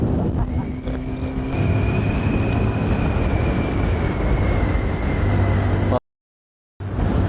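A car passes close to a motorcycle on the road, with a steady loud engine drone and rising tone through the middle, then a brief dropout before the noise resumes.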